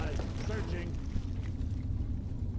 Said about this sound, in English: Let's see what frag grenades do to them while they can't reach me.